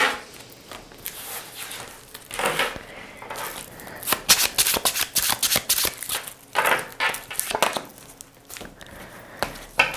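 Tarot cards being shuffled close by, a continuous papery riffling and flicking with sharper slaps and bursts, busier toward the middle, with no voice over it.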